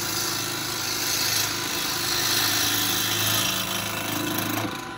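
A bowl gouge makes a push cut across a maple bowl blank being rough-turned on a wood lathe, giving a steady, close, continuous grinding hum of cutting and motor noise with no pauses.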